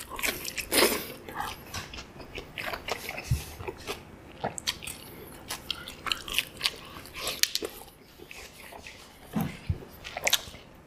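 Crispy cheese tacos are bitten and chewed up close, with crunchy bites followed by moist, squishy chewing and smacking in an irregular rhythm.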